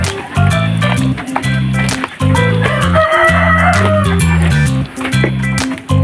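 A Rhode Island Red–bred rooster crows outdoors, a loud, harmonically rich call that repeats in several long bursts with brief gaps across the span, with no talk over it.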